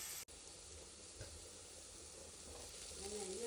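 Finely chopped onions sautéing in a hot pan for a prawn dry fry, a steady soft sizzle throughout, briefly interrupted by a click at the start, with faint stirring.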